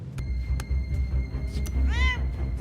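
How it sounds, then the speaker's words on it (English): A cat gives one short, rising and falling meow partway through, heard over a low rumbling background with a few faint clicks. "It's a cat, not Hannibal."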